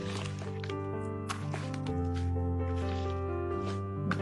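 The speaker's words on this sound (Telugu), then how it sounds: "ఫ్లేవర్ దీంట్లో మొత్తం కలిసిపోయేట్టుగా చాలా ఆయిల్ అంతా కలిసేట్టుగా ఇలా కలుపుకోవాలి." Raw mango pickle (avakaya) being mixed with oil by hand, giving wet, squelching, squishing sounds repeated close up, with a steady low hum underneath.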